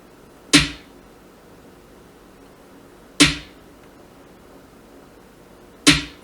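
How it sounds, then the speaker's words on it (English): Snare pattern built from the Wonder Girl 26 snare sample from Splice, three crisp sharp snare hits spaced about two and a half seconds apart, each with a short decaying tail, alone and fairly loud. "I chose this snare, 26, Wonder Girl 26 from Splice, and I built my own snare pattern."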